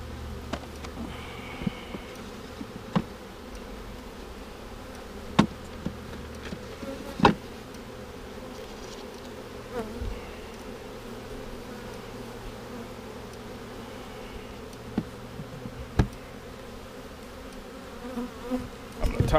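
Honeybees from a package bee hive buzz steadily throughout during an outdoor hive inspection, a continuous close hum with occasional sharp clicks and knocks from handling.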